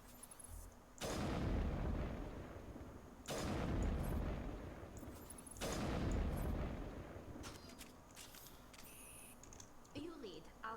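Heavy sniper rifle shots in the sci-fi shooter Mass Effect: three loud, booming blasts about two seconds apart, each trailing off in a long rumbling decay, with softer game sounds filling the gaps.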